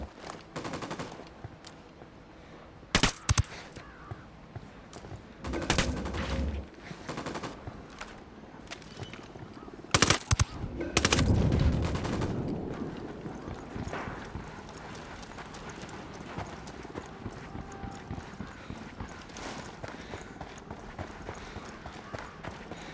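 Gunfire in the video game Ghost Recon: Wildlands, scattered sharp shots and short bursts spread over the scene, moderately distant, with rhythmic background clatter between them.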